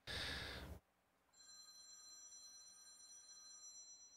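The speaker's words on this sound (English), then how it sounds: "My phone is ringing." A phone rings with a steady electronic trill, following a brief loud burst of noise and a short pause; the ringing continues evenly and moderately loud to the end.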